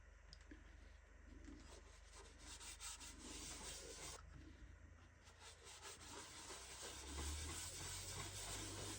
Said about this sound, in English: Basically just rub it in.